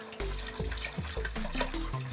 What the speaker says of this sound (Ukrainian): додаємо джерельної води